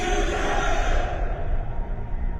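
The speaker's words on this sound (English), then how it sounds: "the shout of the crowd reverberates around him" A crowd shouts together in a radio drama, the roar swelling at once and then rolling and echoing away as it dies down over a couple of seconds.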